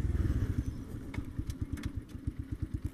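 A budget new motorcycle bought online idles, its engine putting out a steady, loud, rhythmic low putter with regular firing pulses and a few clattering ticks on top.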